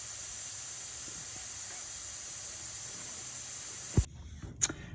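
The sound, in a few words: air hissing out of a tyre valve through a tyre deflator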